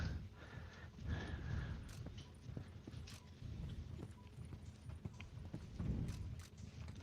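Hooves of a show jumper cantering through a World Cup jumping round in an arena, rhythmic clip-clop beats with heavier thuds and bursts of crowd or arena noise, moderately distant and faint throughout.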